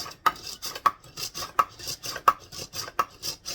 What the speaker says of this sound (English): Just stir it up really good.